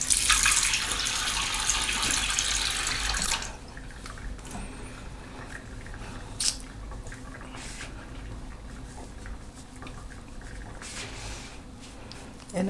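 Tap water runs loudly into a sink while a face is rinsed, a bright steady rush for about three seconds that then cuts to faint drips and small splashes.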